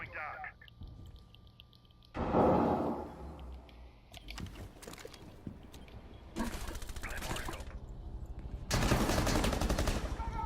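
Bursts of gunfire in a competitive Rainbow Six Siege match, short loud volleys separated by quieter stretches, with casters' commentary and clicking in the background.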